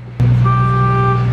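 A car horn hidden under the dashboard and wired to the brake pedal blares suddenly, a loud, steady honk that holds unbroken after a quiet start.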